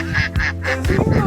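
Ducks quack loudly at close range in a duck pen beside a marsh, several harsh repeated calls in quick bursts with a busy outdoor background.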